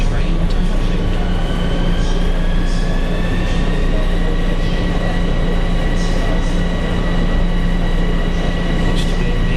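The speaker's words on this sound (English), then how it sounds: "Now there goes a Port Jefferson train to Huffington." A Long Island Rail Road Port Jefferson train of M7 cars runs through the Grand Central terminal area, a loud continuous rumble with sustained high squealing tones drawn out across the whole stretch.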